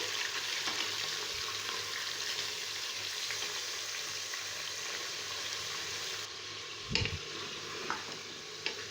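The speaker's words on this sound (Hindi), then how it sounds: "मटन डाल के अब मैं इसको 5 मिनट के लिए भून लूंगी" Mutton pieces frying in a pan for shahi korma, a steady close sizzle with occasional stirring scrapes and a few louder clunks toward the end, no talking.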